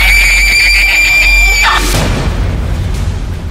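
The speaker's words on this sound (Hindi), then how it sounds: "उस लड़की के मुंह से एक जोरदार चीख निकली।" A girl's loud, piercing scream, high and sustained for over a second, then cut off by a booming crash and a dark rushing rumble that fades into low noise, as in a horror story.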